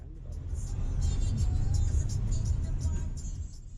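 A number 6 bus in Grenada drives from St. George's toward the interior, with a steady, fairly loud engine rumble and whir heard from inside the bus.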